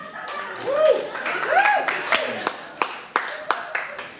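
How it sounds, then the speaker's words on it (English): At a Tucson comedy club, a host talks and whoops over the crowd, then a run of sharp, spaced claps rings out in a loose rhythm toward the end. "Clap it up for me."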